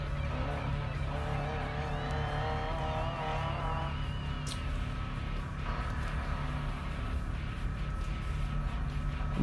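A race car leaves the line for a qualifying lap at the Buffalo Chip 100 in Sturgis, South Dakota. Its steady engine drone and whine hold at a moderate distance throughout, with a brief sharp burst in the middle.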